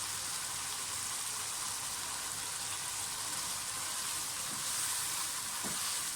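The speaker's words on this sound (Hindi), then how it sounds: "तो सबसे पहले मैं थोड़ी गाजरें फ्राई करूँगी चिकन में" Carrots fry with chicken in a pan for a vegetable spaghetti, giving a steady, dense sizzle throughout, with a couple of faint stirring knocks near the end and no speech.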